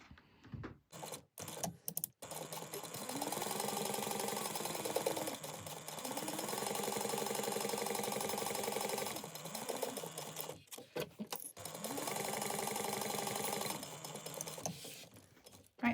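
A sewing machine bastes a bag flap to the back panel, running in long steady bursts with brief pauses and clicks of handling between runs.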